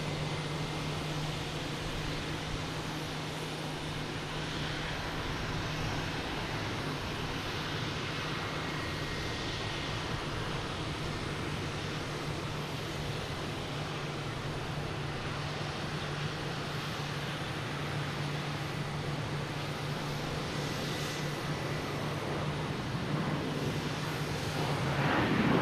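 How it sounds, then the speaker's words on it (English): A Delta airliner from Minneapolis arrives at Boston Logan Airport in the evening, its engines a steady, distant broadband roar with a low hum that holds throughout and swells slightly at the end. "next to arrive is Delta from Minneapolis"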